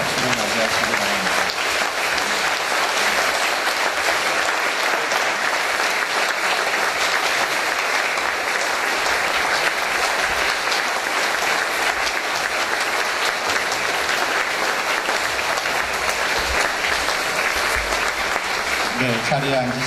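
Sustained, dense applause from a standing cathedral congregation welcoming the entering bishops, loud and continuous throughout.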